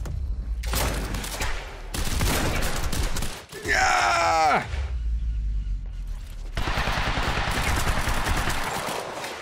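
Shotgun fire in the action game Quantum Break, loud blasts mixed with dense combat noise and a descending groaning sound effect in the middle, then another sustained burst of chaotic gunfire.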